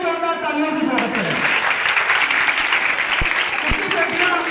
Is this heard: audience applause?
yes